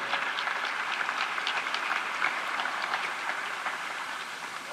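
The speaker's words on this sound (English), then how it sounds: "So please give them all a round of applause." Steady, dense applause from a crowd welcoming guests at a college basketball coach's introduction, a continuous even clatter of many hands filling the room with no voices on top.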